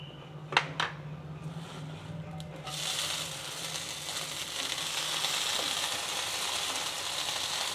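Fresh mint leaves dropped into a hot pan for mint chutney begin to sizzle after a few sharp clicks, and the steady frying hiss grows louder and fills the rest of the clip with no voices.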